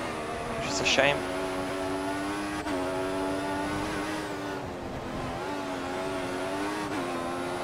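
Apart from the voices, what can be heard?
F1 car engine downshifting in the video game F1 2014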